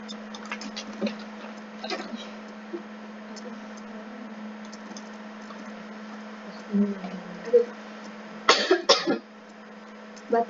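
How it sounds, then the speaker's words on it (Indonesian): A person in an indoor teaching session coughs a few times in short, scattered bursts over a quiet room hum. There is a louder cluster of coughs or throat clearing near the end. "Batuk lagi."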